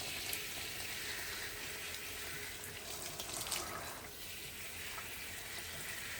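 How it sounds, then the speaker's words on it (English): Water pours and splashes steadily while rinsing a small child's hair in a small bath, a close continuous trickle and slosh with no talking. "And then we'll just rinse out his hair."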